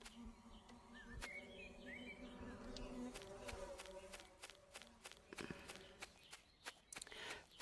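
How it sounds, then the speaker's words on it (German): Steady insect-like buzzing from beehives in the video game Harvest Days, a faint continuous drone under soft, repeated in-game footsteps. "Ach so, und hier sind auch Bienenstöcke."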